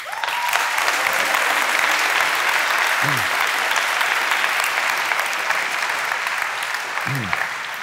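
Studio audience at a German talk show with a football player clapping enthusiastically, a dense, steady wash of applause filling the whole stretch at even loudness, with brief voice-like chirps near the start and end.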